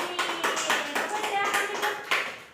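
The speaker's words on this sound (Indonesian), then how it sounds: "Tepuk lagi." A classroom audience gives a short round of clapping after a group presentation in a plant tissue lesson. A few quick, close claps are mixed with faint voices.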